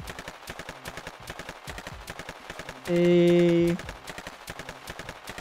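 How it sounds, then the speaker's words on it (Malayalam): Custom guns in Minecraft fire in rapid bursts, sharp clattering shots repeating in quick succession throughout, broken briefly by a short sustained tone and a single voiced syllable. "നമ്മളെന്തായാലും ഇത്രയും ഗണ്ണെടുത്ത് നമ്മൾ വെടിവെച്ചൊക്കെ കാണിച്ചു"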